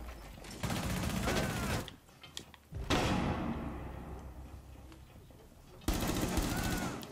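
Gunfire in the tactical shooter game Rainbow Six: dense bursts of rapid shots, a long volley at the start, a sharp single blast near three seconds followed by a fading tail, and another burst at the end, loud and close.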